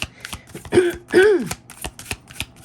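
A person clears their throat twice in quick succession, close and fairly loud, with light clicking and shuffling noises around it.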